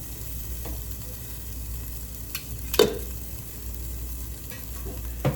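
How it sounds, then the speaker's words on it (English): Garlic and butter melt together in a pan for oven-baked BBQ chicken, giving a steady, soft sizzle with a couple of brief stirring clinks. "I'm making my garlic and my butter melt together."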